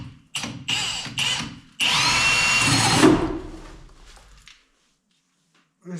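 A power drill bores a hole for a 3 inch plumbing pipe on an off-grid house build, with several short loud bursts and then one longer sustained run that winds down, heard close up.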